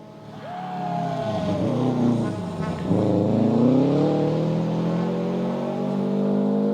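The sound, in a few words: rally car approaching on a stage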